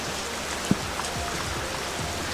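Monsoon rain during a road trip in a Hyundai Kona EV drums steadily as a dense, loud, continuous patter on surfaces, with a single sharp knock near the start and no talk.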